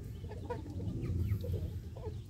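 Laying hens cluck together in low, throaty, overlapping bursts, close and moderately loud, a busy continuous chorus with no talking.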